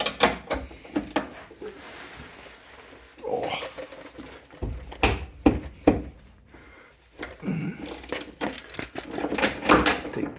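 A bolt is worked free from the front subframe of a third-generation Camaro/Firebird, with irregular metallic knocks, clicks and tool scrapes, some sharp and close, scattered between quieter stretches.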